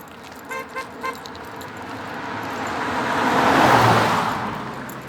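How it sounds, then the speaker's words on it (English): Cars passing along Sparks Road beside walkers heading toward the wetlands, a few short horn toots early on, then a vehicle swelling closer and fading as it goes by. "Quite obvious that the cars are slowing down"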